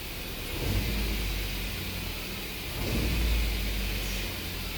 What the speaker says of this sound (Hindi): 2 नंबर सिलेंडर कॉन्टिन्यूसली मिसिंग हो रहा है।